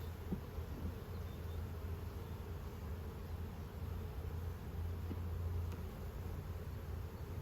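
A dense, continuous drone of many honey bees buzzing together at a hive during an inspection, close and steady throughout, with no voices.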